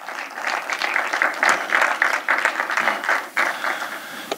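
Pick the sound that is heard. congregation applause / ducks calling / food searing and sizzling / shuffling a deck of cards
congregation applause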